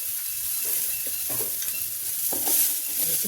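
Asafoetida fries with chopped onions in a pan for garlic spinach curry, a close, steady hiss and sizzle of hot oil with occasional stirring scrapes.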